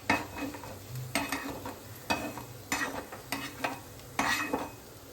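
Coriander seeds roasting in oil while being stirred, a light sizzle with regular scraping strokes and metallic clinks of a spoon against the pan, close and steady, with no speech.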